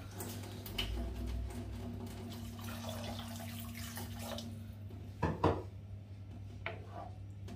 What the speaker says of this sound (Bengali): আর একটু পানি দিই